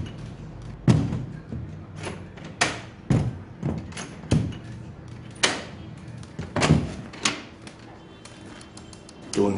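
A door opening and closing, with a series of sharp knocks and thuds spaced irregularly, fairly close and loud against a quiet room.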